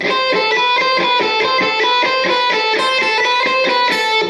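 Fast electric guitar run of evenly alternate-picked notes in a repeating three-note-per-string scale pattern, bright and steady, with no talking.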